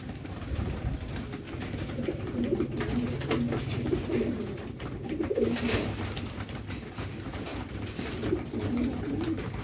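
Racing pigeons coo steadily at a loft, several birds overlapping in a continuous, fairly loud murmur of low, rolling calls with no talking.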